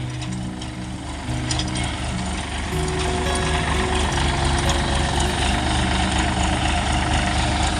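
A 4x4 GPS-guided automatic tractor runs in a field, its engine a loud, close, steady low rumble with a droning hum that grows slightly stronger after the first second, and no voices.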